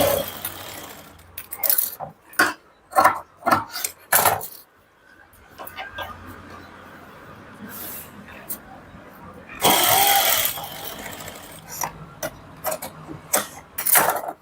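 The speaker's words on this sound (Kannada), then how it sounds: "ಈಗ ಸ್ಟಿಚ್ ಹಾಕೋಣ" A sewing machine stitches a boutique-style blouse in short whirring bursts, some brief and some longer, separated by pauses, with someone talking between the runs.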